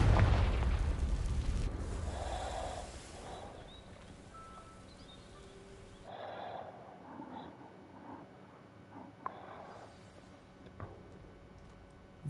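A Confringo fire blast spell in Hogwarts Legacy bursts near dry vines, a loud booming whoosh that fades into a low rumble, followed by quieter crackles and scattered small pops.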